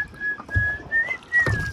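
A person whistles a clear, steady tone in four short phrases, the pitch holding level with slight bends, outdoors among low background noise and faint murmurs.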